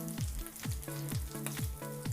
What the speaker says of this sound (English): So I'm just cooking the fish cakes now